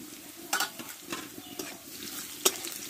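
Crushed garlic stirred into browned onions in a frying pan, with a soft steady sizzle beneath several sharp scraping stirs of the spatula, close and fairly quiet.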